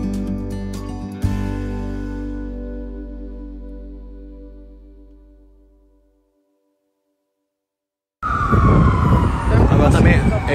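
Emergency vehicle siren wailing in a city street, loud and steady at first, then fading out to silence before a loud burst of noisy street sound takes over.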